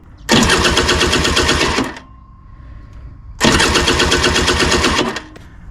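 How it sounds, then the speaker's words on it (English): Starter motor cranking on a Peugeot Elyseo 100 scooter with the HT lead removed so it cannot start: two loud, rapid whirring bursts of about a second and a half each, separated by a quiet pause. "remove the HT lead so it can't start and operate the starter motor"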